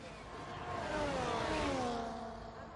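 An F1 car in F1 24 at the Brazilian GP engine-whines into the pit lane, its tone rising to a peak mid-pass and then sliding down in pitch as it moves away, with a voice talking briefly over it.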